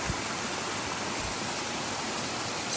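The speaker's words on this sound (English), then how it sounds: "This is one of the waterfalls" Waterfall cascading on Eliza Brook along a mountain trail, a steady, full broadband roar of falling water filling the scene up close with no voices.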